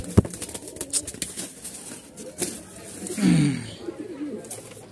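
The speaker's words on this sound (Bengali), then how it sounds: "এখানে 2 জোড়া কবুতর" Pigeons cooing in a loft of paired birds kept for sale, one low throaty coo standing out near the end over scattered rustling, clicks and faint background noise.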